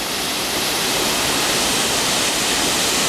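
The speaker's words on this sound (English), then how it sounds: "you see the rest of the waterfall. That's just dropping so far below, there's so much water going through there." Waterfall on the Kungsleden trail near Ammarnäs, heavy water plunging far below a bridge, a dense, steady, loud hiss and roar with no pauses or voices.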